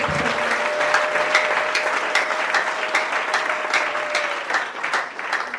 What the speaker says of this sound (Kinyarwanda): Bongera amashyi nibaraye Imana ntacyo.